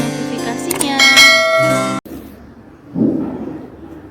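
A bright notification bell chimes in a cluster of metallic dings and ringing tones, loud and up front, then cuts off abruptly, followed by quieter background sound and a short murmur.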